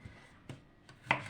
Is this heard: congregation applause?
no